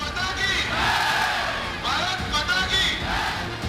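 Crowd at Amit Shah's road show in Kharagpur, Bengal, a loud massed roar with cheering and shouted cries rising and falling over a few seconds.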